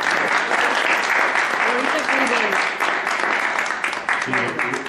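An audience breaks into sustained, dense applause at a lacework and drawn-thread embroidery exhibition in Alginet, clapping loudly and evenly throughout with a few voices underneath.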